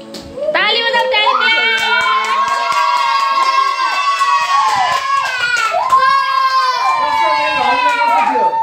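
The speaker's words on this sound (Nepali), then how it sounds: "ताली बजाऊ ताली।" Hand clapping from people at a lively family gathering, steady patter running beneath a loud, close voice that sings and talks almost throughout.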